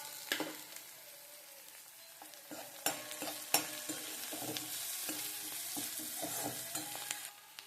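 Curry leaves and onions frying in a pan give a soft, quiet sizzle broken by crisp spatters and scraping stir strokes at irregular moments.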